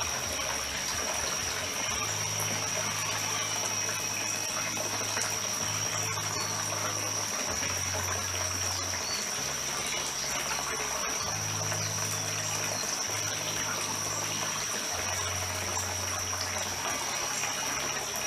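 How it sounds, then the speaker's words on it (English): Water from a garden hose trickles steadily into a tank outdoors, a constant hiss of flow lasting the whole stretch, with a low intermittent hum underneath and no talk. "Don't have a garden hose that I use except to put water in the tank here,"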